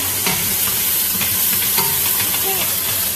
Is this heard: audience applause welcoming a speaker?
no